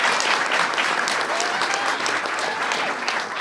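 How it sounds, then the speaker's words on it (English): An indoor audience at a military families event hosted by Vice President Pence breaks into dense, sustained clapping that fills the room evenly for a few seconds, with a faint murmur of voices beneath it. "Give Deborah a big round of applause."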